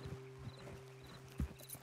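Horse hooves clip-clop faintly on the ground in Red Dead Redemption 2, a few uneven steps with one heavier thud, under a low steady background hum.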